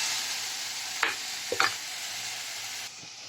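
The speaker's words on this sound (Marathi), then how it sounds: "आता 1-2-3 मिनिटं याला चांगलं परतून घ्यावं लागणार आहे, म्हणजे तो भोपळा थोडा लवकर मऊ होईल" Pumpkin pieces sautéing with coconut spice paste in a pan, a steady soft sizzle broken by a few brief scraping stirs of a spoon, close and fairly quiet.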